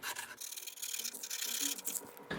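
Sandpaper rubs over a hand-carved wooden wood spirit face, with quick, close scratchy back-and-forth strokes and short breaks between them.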